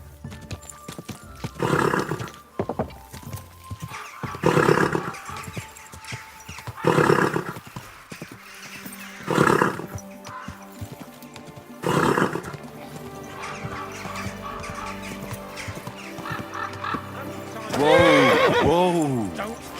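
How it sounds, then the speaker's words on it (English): A horse in Kingdom Come Deliverance 2 whinnies and snorts in several loud, regularly spaced bursts with hoof clip-clops between them, and one long descending neigh near the end over quiet background sound. "Easy. Good horse."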